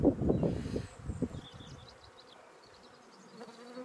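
Honey bees buzz softly in the background at an open hive, a faint droning hum under a few low thumps and rustles at the start.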